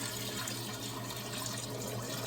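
Silver nitrate solution pours from a washed 3-liter glass beaker in a steady, continuous liquid rush, close and fairly quiet, with no voices.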